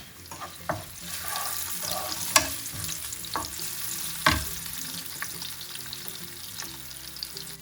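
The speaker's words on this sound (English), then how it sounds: "that goes straight into our lovely garlic that's cooking beautifully" Garlic fries in oil with a steady sizzle, punctuated by sharp clinks and scrapes as it is stirred in the pan, close and fairly quiet.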